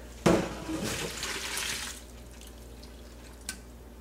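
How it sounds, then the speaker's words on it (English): Pasta water pours through a heavy colander in a home kitchen, a loud rushing splash starting abruptly and fading after about two seconds, followed by a faint drip or clink. "Drain it in a nice heavy colander."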